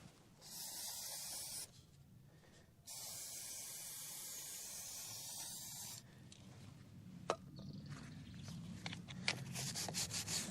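A brush works oil along a motorcycle chain on a Benelli TRK, giving soft, faint scrubbing and hissing strokes in uneven bursts, close by and quiet, with small clicks near the end.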